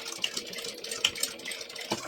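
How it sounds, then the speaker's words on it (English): A sewing machine runs steadily, stitching two lines across a fabric clutch, a close, even mechanical whir with rapid needle ticks and no voices. "Now I'm going to sew 2 lines here, making sure that my swivel clasp is completely out of the way."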